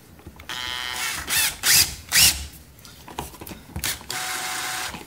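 A screw is driven in while installing a dimmer switch: a few short bursts of ratcheting, drill-like whirring, close and fairly loud, separated by brief pauses, with no talking.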